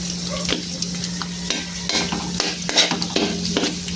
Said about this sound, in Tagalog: Ngayon ko lang brown yung itong bawang.